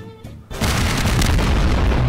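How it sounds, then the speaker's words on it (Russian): Huge, loud explosion in the Garry's Mod sandbox game, a deep booming blast that starts half a second in and roars on as a dense, sustained rumble. "ты мега эпический взрыв запилил"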